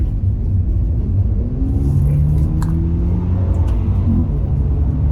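A 2022 Maserati Levante accelerates hard in sport mode, its engine a loud, steady rumble with rising tonal drone heard from inside the cabin, continuous throughout.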